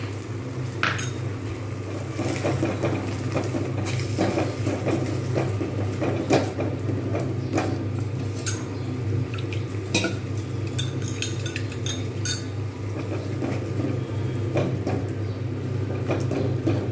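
Curd being whisked for a katla fish curry, a busy run of scraping, stirring and light clinks of utensil against bowl continuing steadily throughout, fairly close with a low kitchen hum beneath.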